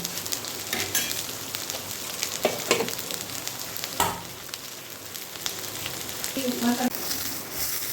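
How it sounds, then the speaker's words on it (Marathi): Chilli pieces roast in a couple of spoons of oil in a kadhai for a Solapur-style mirchu, giving a steady close sizzle with occasional stirring scrapes and no voices. "कढईमध्ये थोडंसं तेल टाकून दोन चमचे तेल टाकून ह्या मिरच्यांचे तुकडे आपण त्याच्या कढईमध्ये टाकून व्यवस्थित आधी भाजून"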